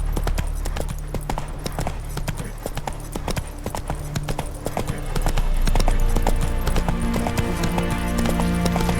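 Geralt's horse Roach in The Witcher 3 clip-clopping along, a rapid, regular train of sharp hoof strikes that thickens and grows louder midway, with a low rumbling bed underneath.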